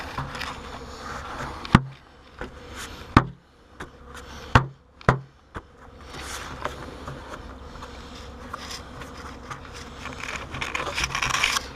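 Honey bees buzz near a hive in a soft, continuous drone, broken by several sharp knocks and thumps close by.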